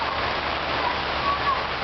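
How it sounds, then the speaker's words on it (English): Rain falling in Hilo, a dense, steady hiss of drops that stays even and fairly loud through the short stretch, with no voices standing out. "You gotta love this rain."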